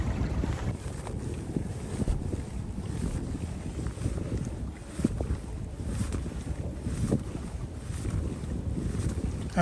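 Steady wind rushes and buffets the microphone over San Francisco Bay aboard a fishing boat out after California halibut, a continuous close roar with gusts and faint water slaps, no talking.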